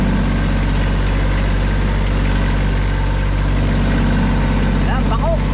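A steady engine idles close by, a constant low rumble running the whole time with no breaks and a few short voice-like chirps near the end.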